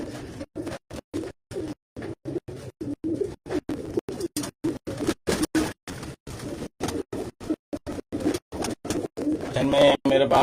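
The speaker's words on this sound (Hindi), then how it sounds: "ये सारे मेन ब्रीडर कबूतर हैं इनके" Breeder pigeons, including white and Jaunsre birds, coo in a busy loft with repeated soft pulsing calls, close and fairly loud, while someone talks over them.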